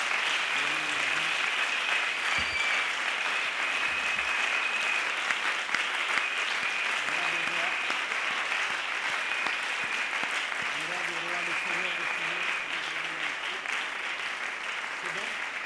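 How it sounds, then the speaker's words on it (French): Sustained applause fills a large hall at a church women's convention, a dense steady roar of many hands that keeps going the whole time, with a voice faintly audible underneath. "Je voudrais que nous donnions une pluie d'applaudissements au Seigneur qui nous a donné la vie."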